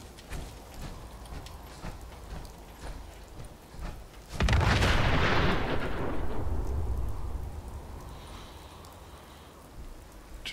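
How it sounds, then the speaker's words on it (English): Homing beacon strike in Fallout 4: after a quiet patch of rain-like background noise, one sudden, powerful explosion booms and then rumbles away slowly over several seconds. "the explosion is about the same size as a mini nuke"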